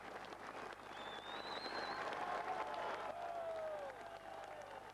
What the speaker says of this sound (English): to the cheers and applause of the several thousand onlookers